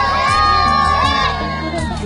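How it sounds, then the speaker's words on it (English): Village crowd of children and adults in Bangladesh shouting and yelling from across a river, loud overlapping excited voices in bursts, fairly near, with cheering calls and no clear words. "started calling us out and just yelling at us"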